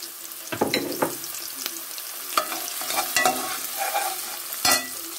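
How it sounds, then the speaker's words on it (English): Onions fry and sizzle in a pan with frequent stirring, crisp scraping clatters and bursts of crackle over a soft, steady hiss. "So I'm frying these onions."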